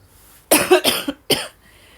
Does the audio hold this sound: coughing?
yes